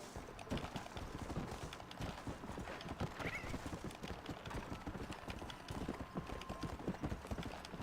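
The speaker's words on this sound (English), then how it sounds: "Horse is getting mad at us." Steady clip-clop of hooves trotting close by in Red Dead Redemption 2, with a horse neighing partway through; a continuous, busy rhythm throughout.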